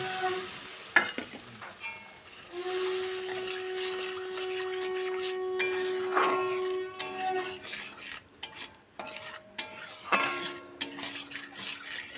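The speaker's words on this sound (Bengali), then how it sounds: "নেড়ে চেড়ে ভেজে নেব" Spices fry in a pan while being stirred, giving a soft sizzle under repeated clinks and scrapes of a metal utensil against the pan, with brief tonal rings from the metal.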